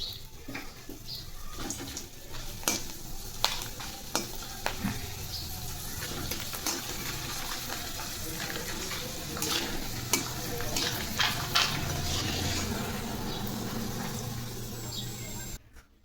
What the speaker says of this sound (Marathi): तेल गरम झालं, आपण तळून घेऊ